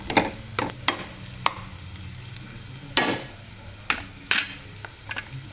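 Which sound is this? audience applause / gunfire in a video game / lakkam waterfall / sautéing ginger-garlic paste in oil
sautéing ginger-garlic paste in oil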